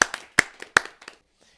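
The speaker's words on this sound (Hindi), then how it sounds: "आइए जोरदार तालियों से उनका स्वागत करते हैं।" A small audience gives a few sharp hand claps to welcome a speaker at a Hindi-language gathering; three loud claps with softer ones between them quickly die away into quiet.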